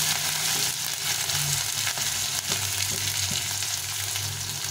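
Crushed ginger and green chillies frying in hot oil with five-spice seeds, a dense, steady sizzle that stays loud and close throughout, with faint stirring and no talk.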